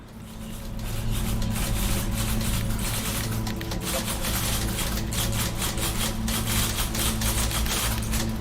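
Dense clattering of many typewriters fills the scene in the game The Beginner's Guide, a loud continuous mass of rapid key strikes over a low mechanical hum, with no voices.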